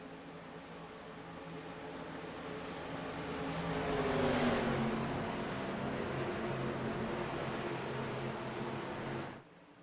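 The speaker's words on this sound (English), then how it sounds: "there goes the pace car" A pace car in the iRacing sim drives steadily with a droning engine note that swells as it passes by, then cuts off abruptly near the end.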